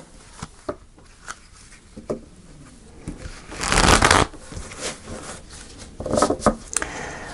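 Gilded Tarot cards are shuffled by hand in a series of soft riffling bursts and light taps, close and fairly quiet, with a longer flurry in the middle and another near the end.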